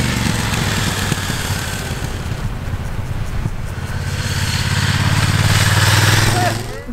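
Motorcycle engine running at the Nufenen Pass in Switzerland, a steady loud drone that swells and rises in pitch toward the end, heard close with no talk.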